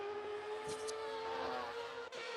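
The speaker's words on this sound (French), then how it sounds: "vous pouvez entendre des petits changements au niveau de son moteur. Ça reste un V8, mais un peu plus réaliste cette fois-ci" A V8 engine in a racing video game hums with a steady, even tone at moderate volume, holding a constant pitch with only slight variation.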